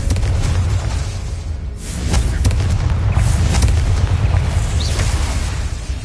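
A Confringo fire spell bursts in the video game Hogwarts Legacy, with loud, rumbling booms and crackling blasts that swell and roll on continuously across the clip, with no voices.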